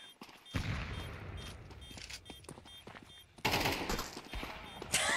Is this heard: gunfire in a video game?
yes